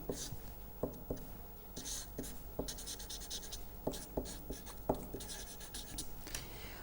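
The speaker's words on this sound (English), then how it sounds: "Let us write that down mathematically" Hand-writing equations, with steady taps and scratches of a pen or marker in an uneven rhythm, faint and close, with no speech.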